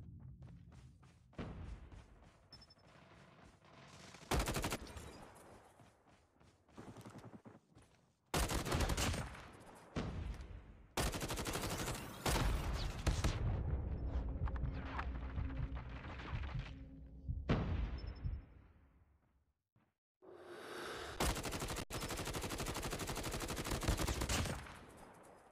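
Video game gunfire from a Grau 5.56 rifle comes in loud, repeated automatic bursts with thumps between them, and some quieter gaps along the way.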